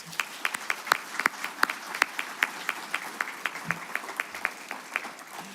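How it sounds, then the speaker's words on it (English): Applause from an audience at a college awards ceremony, a moderate room of hands clapping with sharp individual claps standing out in an uneven, steady patter that continues throughout without any voices. "Let's give Jonathan a round of applause."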